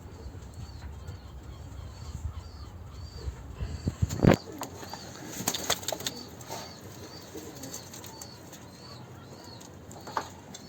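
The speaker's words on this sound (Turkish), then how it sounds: "Arkadaşlar kuş gerçekten çok hareketli." Birds flutter and coo nearby, with a sudden burst of flapping wings and scattered chirps over a low background hum.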